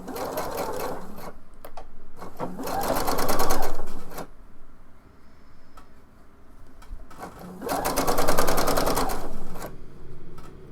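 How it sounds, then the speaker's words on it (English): Sewing machine stitching a blouse seam and small tab, running in two loud, steady bursts of rapid needle chatter separated by quieter pauses with light handling sounds. "I'm going to go ahead and sew the other side and sew the little tab."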